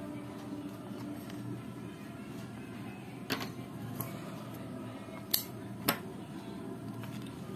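Scissors snip through crochet thread in a few short, sharp cuts, heard close and faint against a quiet room.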